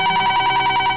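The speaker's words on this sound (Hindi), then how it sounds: "निकी का फोन होगा।" A landline telephone rings in a home, a steady pulsing electronic ring repeating about eight times in quick succession, fairly loud and close, with no voices over it.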